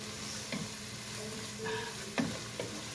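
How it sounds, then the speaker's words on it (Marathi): Chopped vegetables with garlic and coriander sizzle softly in a pan while a spoon stirs and taps against it a few times, quiet and close, with no talking. "हे सगळं असं छान सोते करून घेतलं"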